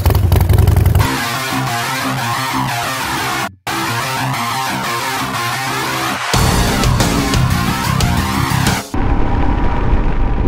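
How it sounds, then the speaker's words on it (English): A 2022 Royal Enfield Himalayan motorcycle being ridden, its engine droning loud and steady with rough, clattering layers and brief drops in level, including one short cut-out partway through. "we're on the 2022 Royal Enfield Himalayan, and we're riding it"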